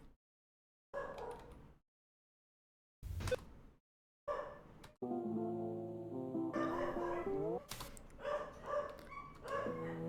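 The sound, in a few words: dogs barking outside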